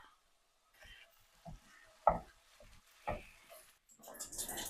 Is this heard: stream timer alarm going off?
no